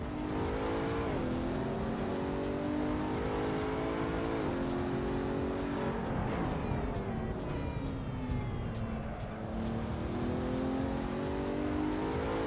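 Pagani Huayra BC engine in Assetto Corsa, a loud buzzing drone rising and falling through gear changes and revs across the whole stretch.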